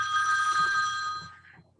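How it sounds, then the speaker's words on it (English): A telephone bell rings in one sustained, bright burst and then trails off, loud and close, with no voices over it. "You got a persistent phone call there."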